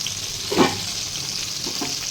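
Fish fries in hot oil in a covered pan with the lid just lifted, a steady close sizzle with a brief louder spatter near the start and softer crackles later, no voices.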